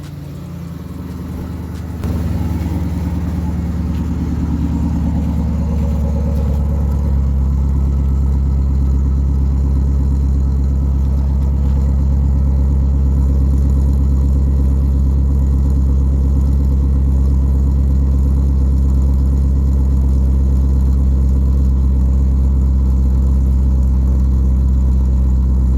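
Chevrolet Lumina SS on a cold morning start, fitted with an H-pipe and three mufflers: a sudden loud engine catch settles into a deep, steady, rumbling idle that holds close and unbroken for the rest of the stretch.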